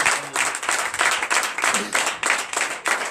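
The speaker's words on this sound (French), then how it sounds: "Donnez de vives acclamations." A church congregation at a night deliverance and prophecy service claps in loud, rhythmic bursts, with cheering voices mixed into the rapid, pulsing applause.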